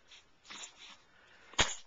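A baby lets out a single sharp sneeze, close and loud, after a few soft fussy breaths, with no talking during the sneeze.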